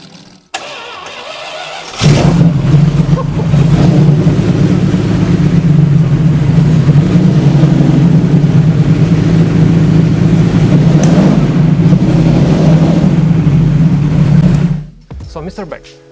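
A custom-built motorcycle with a Lamborghini engine cranks briefly, fires up and runs at a loud, steady idle close by for about twelve seconds before cutting off, with voices faint at the start.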